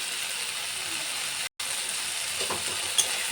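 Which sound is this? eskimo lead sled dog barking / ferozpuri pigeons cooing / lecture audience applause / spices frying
spices frying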